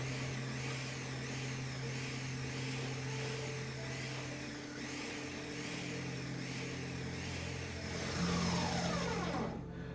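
A food processor pulses a falafel mixture with a loud, steady motor whir that runs throughout and shifts in pitch near the end. No one speaks.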